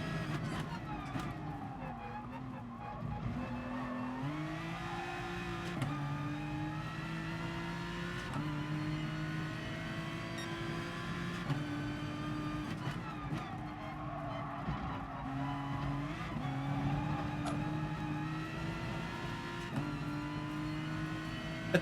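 Race cars, an Aston Martin and a Subaru, roar continuously in GT Sport, engines rising and dropping through repeated gear shifts over a steady drone, with a commentator talking throughout.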